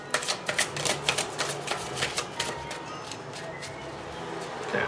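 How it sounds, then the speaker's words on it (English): Tarot deck shuffled once, a quick rhythmic series of crisp card riffles and taps up close that thins out into a softer rustle, with no talking. "I'm only going to shuffle this once."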